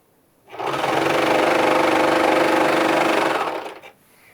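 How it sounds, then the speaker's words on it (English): A serger sewing machine runs steadily across pillowcase fabric, giving a loud, continuous close-up whir for about three seconds that starts and stops abruptly. "So watch, I'm using a serger here."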